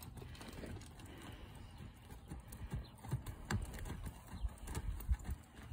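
A horse being trotted out in a two-rein schooling session, steady hoofbeats that start soft and grow louder and more distinct toward the end, with no talk.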